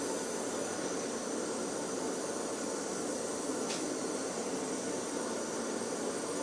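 Compressed air hissing steadily out of a leaking transfer box under a pressure test, loud, continuous and unbroken throughout with no other sound over it.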